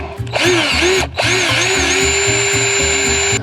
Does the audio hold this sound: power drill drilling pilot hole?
yes